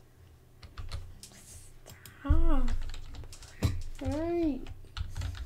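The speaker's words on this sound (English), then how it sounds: "I'm gonna type in" Typing on a computer keyboard into the chat of the game Among Us, a run of quick soft key clicks under a child's speech and brief voiced exclamations.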